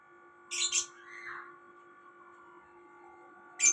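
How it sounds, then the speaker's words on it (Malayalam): A pet bird kept at home gives two short bursts of bright chirping, about three seconds apart, over a steady low electrical hum in a quiet room. "ഇടങ്ങിയ കിളിയാണ് ഇത്"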